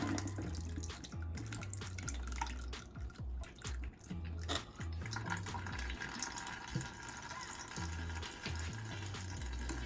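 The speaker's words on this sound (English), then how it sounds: "So we're gonna start the straining and do little by little." Tamarind water for aguas frescas is strained a little at a time, with a steady close pouring and trickling of liquid, uneven splashes and drips, and no voices.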